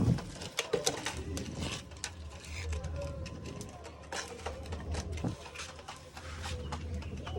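Soft, low pigeon cooing at close range amid faint rustling and shuffling, with a few brief taps; the coos repeat irregularly.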